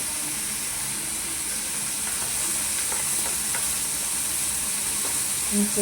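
Turmeric, garam masala and spices sizzle steadily in a hot pan for a rustic chickpea greens dish, with a constant close frying hiss and faint scraping of stirring throughout.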